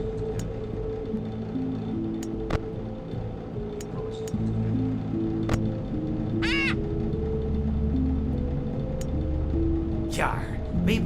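Squawking caws from a pirate's bird in the video game Ultimate Custom Night, two short shrill cries rising over a continuous music bed with someone speaking in a pirate voice throughout.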